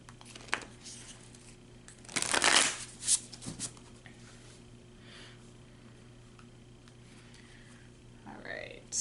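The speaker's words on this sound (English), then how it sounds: "one more shuffle." Tarot cards shuffled by hand: a short, crisp riffling burst of card flutter, with a few lighter taps after it and a quiet, hushed room around it.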